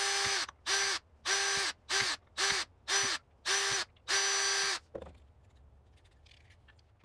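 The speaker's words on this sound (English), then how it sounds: "we just want to drill as many holes as we can in the bottom of this" Eight short bursts of a small power drill whirring as it drills small holes in the bottom of a plastic bottle, each a second or less, then the motor stops and faint handling noises remain.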